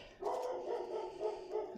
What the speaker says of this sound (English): you can hear Zoe barking